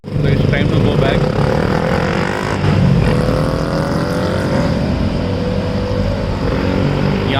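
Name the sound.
small motorcycles with enlarged silencers, loud exhaust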